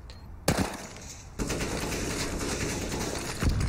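Gunfire in the video game Counter-Strike: Global Offensive during a pro match on the Overpass map, sharp shots followed by a dense sustained burst of rapid fire over game ambience.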